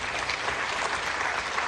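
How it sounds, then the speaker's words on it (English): Assembly audience at an African airlines association general meeting applauding, a short dense burst of clapping held at steady loudness with no gaps. "A round of applause, please."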